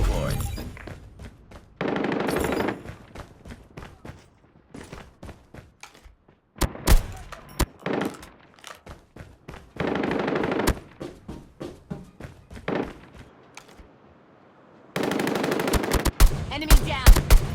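A sentry gun in the mobile shooter Call of Duty Mobile fires in repeated rapid bursts, loud and close, with sharp single shots and thuds between the volleys and no talk.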